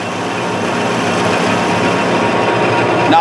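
A lathe cuts steel pipe during preparation for TIG welding, a loud, steady machine drone with a continuous grinding, buzzing texture and no pauses or voices.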